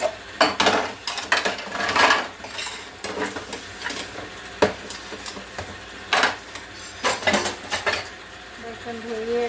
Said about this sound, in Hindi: तो हम बर्तन अपना धो लेते हैं